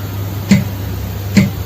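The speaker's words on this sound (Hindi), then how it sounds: "इसमें 4 बीट्स बज रही हैं, जिसमें एक अलग है और 3 एक जैसी हैं।" Two sharp metronome ticks about 0.85 seconds apart sound over a steady low background hum, with no voices.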